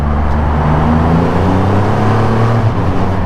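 A Triumph Rocket 3 R motorcycle engine drones in a deep, steady tone while riding, loud and close with heavy wind rush and rising pitch, with no talk.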